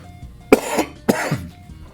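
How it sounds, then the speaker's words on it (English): Two sharp coughs sound close by, about half a second apart, each trailing off with a rough, breathy tail. "A cough."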